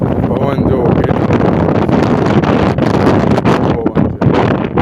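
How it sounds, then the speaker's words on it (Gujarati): Strong wind sweeping across a rooftop terrace, a loud, continuous roar of gusts buffeting the microphone close up, with short dips in force near the end. "જોઈ લો પવન, જો કેટલો"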